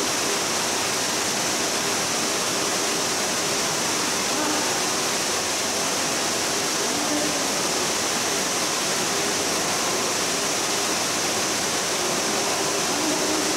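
Fukuroda Falls, a multi-tiered waterfall, roars steadily and loudly, a dense unbroken rush of falling water filling the whole stretch.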